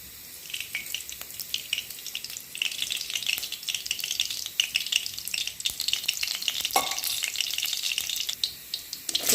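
Ivy gourd (kovakkai) frying in hot oil for a Chettinad dish, with a bright, crackling sizzle and scattered spatters and stirring clicks; close and fairly loud, with no voices.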